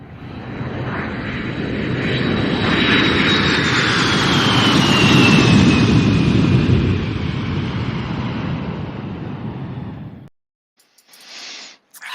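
A jet airplane takes off, its loud broad engine roar rising with a whining tone sweeping downward over about ten seconds, then cutting off abruptly, followed by brief faint noises.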